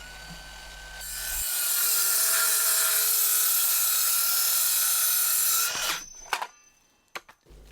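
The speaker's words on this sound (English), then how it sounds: "I'm just going to use the speed square and my Bosch 18-volt circular saw to get the bits cut down" A Bosch 18-volt cordless circular saw spins up and rips through a piece of wood for about four seconds, a loud, steady high whine, then winds down, followed by a few clunks of the offcut and tool being set down.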